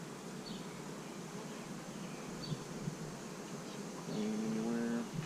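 Honey bees buzzing around an opened hive with a spotty brood pattern and nectar backfill, a dense close hum with individual bees droning louder as they pass near, no talk.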